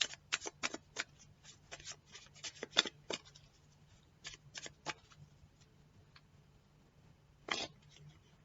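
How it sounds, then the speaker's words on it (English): Tarot cards shuffled by hand in a quiet room, a run of crisp riffling bursts that come in quick clusters, then pause, then return once more near the end, alone with no talk. "We're going to keep shuffling and see what happens."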